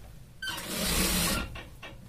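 A sewing machine runs a short burst of stitching on pant fabric, whirring steadily for about a second before slowing, with a couple of fainter mechanical clicks afterward.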